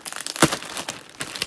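Plastic bag crinkling as it is handled, with a sharp louder rustle in the middle and softer scattered crackles before and after, close and clear with no voices.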